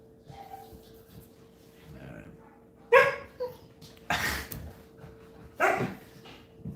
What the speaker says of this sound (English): Dog wants attention.